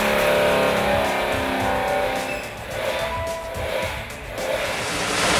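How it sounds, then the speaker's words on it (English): A loud race engine on a dyno roars and revs steadily in an enclosed room, its pitch wavering slightly while the noise stays constant throughout. "when the engine's on the dyno, obviously it's all running, it's quite noisy in the room"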